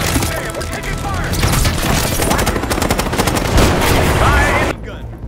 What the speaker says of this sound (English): Damn, we're taking fire!